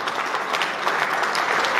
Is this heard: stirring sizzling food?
no